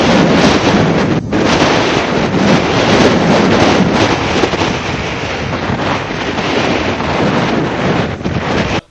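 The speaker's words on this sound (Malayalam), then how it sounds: "മച്ചിലിപട്ടണത്തിനും കാക്കിനാട ഗ്രാമത്തിനുമിടയിലാണ് ചുഴലിക്കാറ്റ് തീരം തൊട്ടത്." Strong wind from Cyclone Montha on the coast between Machilipatnam and Kakinada, a loud, constant roaring buffet across the microphone with surf-like rushing underneath and no voices.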